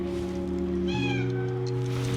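Several female cats meow near the camera, a short bright meow rising over a steady low hum and background tones in a home where the cats are being kept indoors.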